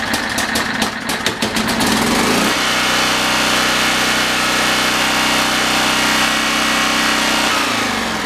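A Honda GN190 small engine that has seen a lot of hours runs loud and steady up close, a rough, clattering start settling into an even drone before the tone shifts near the end.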